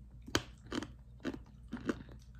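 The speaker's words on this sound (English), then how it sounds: "I'm trying the peanuts now." Crunchy spicy peanuts being bitten and chewed, four or five sharp crunches spaced about half a second apart, close and fairly quiet with no talking.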